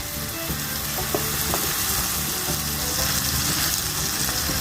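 Bananas fry with salted butter in a pan, a steady, close, bright sizzle and crackle with faint stirring scrapes and small pops, continuous without speech.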